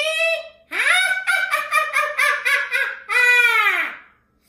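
A human voice imitates a witch's cackle, a high, nasal, pulsing run of rapid laughing syllables that swoops up and down, close and loud, ending in a long drawn-out wail.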